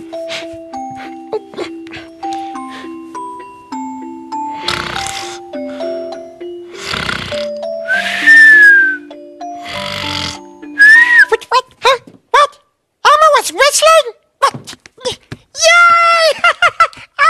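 The Sesame Street puppet Elmo's voice imitates sleepy snoring, a sequence of slow rising and falling tones, then breaks into high, swooping whistles that get louder toward the end.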